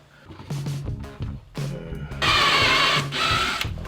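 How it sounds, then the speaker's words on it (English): A power drill whirs loudly into a plastic LED logo housing, drilling a hole for an IR receiver, with short starts and stops before a sustained high grinding run. "Drill a hole for this, the IR receiver real quick."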